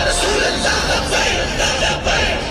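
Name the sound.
large crowd gathered to hear Saad Rizvi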